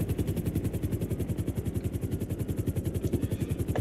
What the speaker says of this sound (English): I already got it. I got the chopper.